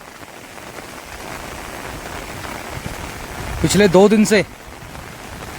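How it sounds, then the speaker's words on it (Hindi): Heavy, continuous rain falls in the Jim Corbett tiger territory, a steady broadband wash that runs through the whole stretch, with someone speaking briefly near the end. "बारिश एक पल को रुकी नहीं है, लगातार चल रही है।"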